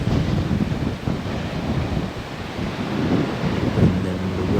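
Sea waves wash in steadily at a coastal rock formation in Burgos, Ilocos Norte, a continuous loud surf roar mixed with gusting wind noise on the microphone.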